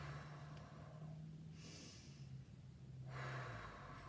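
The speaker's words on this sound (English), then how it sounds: "we start by breathing in through the nose and exhaling through the mouth" Diaphragmatic breathing, drawing in through the nose and letting out through the mouth: a soft nasal inhale followed by a longer, breathy exhale, close and steady, with no talking.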